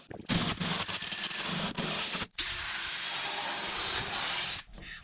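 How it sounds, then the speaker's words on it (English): A wire wheel on a power tool scours the strip rail of a Suzuki Stockman LJ81 under restoration, giving loud, harsh, hissing grinding in long bursts broken by a few brief pauses. "I've got a wire wheel. I'm going to clean out the strip rail."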